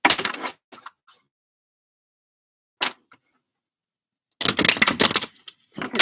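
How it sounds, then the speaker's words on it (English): Tarot cards are shuffled in two short bursts of crisp riffling and slapping, the first at the very start and a longer one near the end, with scattered single clicks and silence between. "Let's get a good shuffle in for Wanda."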